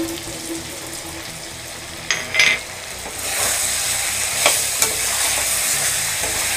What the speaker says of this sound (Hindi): थोड़ी देर इसके साथ भी चला के पकाएंगे इसको।